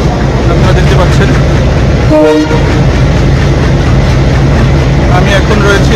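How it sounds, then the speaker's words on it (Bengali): A commuter train on the Khulna–Mongla line sounds a short, loud horn blast while departing near Katakhali station, heard from the carriage right behind the engine over a constant rumbling rail noise; a voice talks throughout. "ট্রেনটি কেবল হুইসেল দিল, এখনই ছেড়ে দেবে"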